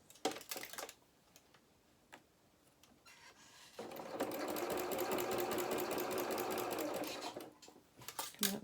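A domestic sewing machine stitches the seam of a fur coat for a Luna Lapin toy, starting with short bursts, then running in one steady loud whirring stretch before stopping and restarting briefly.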